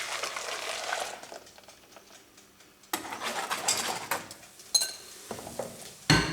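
Custard mixture of boiled milk, egg yolks and sugar poured back into a saucepan, a soft liquid pour followed by clinks and scrapes of the pan and utensils, close and fairly quiet.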